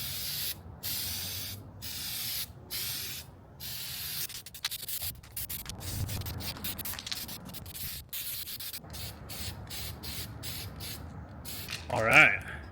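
Spray gun laying a second coat of Steel-It coating onto a 3rd gen 4Runner bumper, a steady hiss broken into repeated bursts with short gaps, close by, with a brief louder sound near the end.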